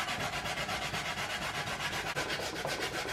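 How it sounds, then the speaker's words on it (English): Peeled cassava is rubbed hard against a hand grater to make bammy, giving a loud, rhythmic scraping of fast back-and-forth strokes heard close up, with no voices. "So now the hard part, the grater."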